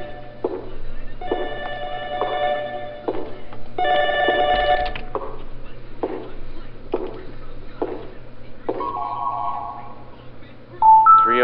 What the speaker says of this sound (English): Gonna answer the phone, guys.